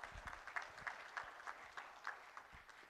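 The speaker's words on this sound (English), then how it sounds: "A round of applause, ladies and gentlemen." Audience applause at an inaugural business conference function, a steady round of clapping from a crowd indoors, moderately loud and continuous throughout with no talk over it.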